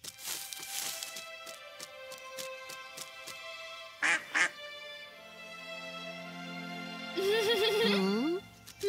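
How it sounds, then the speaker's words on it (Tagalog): A small cartoon duck quacks in short bursts, with cartoon-style music and effects around it and a voice speaking briefly in between. "Isang maliit na pato lang pala."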